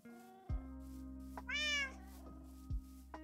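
Cats meow in Minecraft, several short, clear, close meows at a quiet level, with brief game sound effects and no talk.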